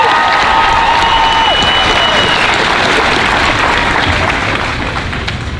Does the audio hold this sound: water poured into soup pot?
no